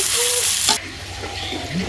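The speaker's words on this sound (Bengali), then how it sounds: "সুন্দর করে পেঁয়াজ কুচিটা আমরা ভেজে নেব।" Chopped onions frying in a pan for a meat curry, a loud bright sizzle broken by a sharp clatter, then a softer steady crackle with faint stirring scrapes.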